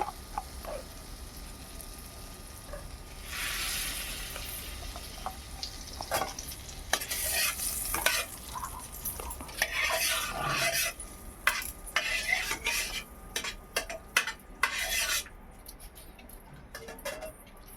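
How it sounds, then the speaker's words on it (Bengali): Ghee and butter are stirred around a hot kadai for tandoori chicken, with a spoon scraping and clinking against the metal over a soft, steady sizzle that swells and fades, close by and without talk. "এবার কড়াইতে ভালোভাবে ঘি আর বাটারটা মাখিয়ে নেব।"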